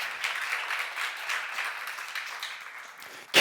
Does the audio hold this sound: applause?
yes